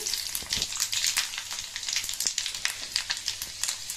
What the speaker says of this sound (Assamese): এয়া মই শুকান জলকীয়া কিটা ফোৰণ দিছো, লগতে পাঁচ ফোৰণ দিছো